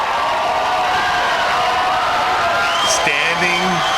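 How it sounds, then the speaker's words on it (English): Studio audience of The Tonight Show with Jay Leno on its feet for Michael Jordan, a steady wash of applause and cheering close by, with a few louder shouts near the end. "Standing applause for the introduction."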